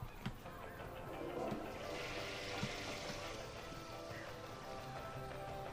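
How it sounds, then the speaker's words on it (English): A toilet flushes in the Zoo Tycoon video game, a soft, steady rush of water that holds at low volume for several seconds, with a few faint clicks over it. "As you can hear from the flushing."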